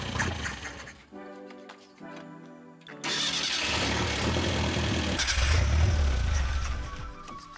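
A Ford Pinto engine abandoned in a junkyard for 30 years, its carburetor in need of a rebuild, cranks and catches, then settles into a rough, loud mid-pitched run with uneven surges and no talking.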